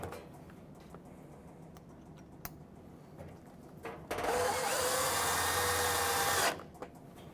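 Power drill driving screws back into the same holes on a Moffat Turbofan oven during servicing, a steady close whirring burst of about two seconds after faint clicks and handling noises.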